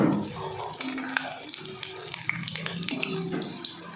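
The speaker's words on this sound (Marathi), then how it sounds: "तर तसे तळून घ्यायचे पलटून पलटून" Wheat-flour samosa rolls deep frying in oil in a kadhai bubble and sizzle loudly and close, with clinks and scrapes as they are turned over, a busy continuous crackle with no talking.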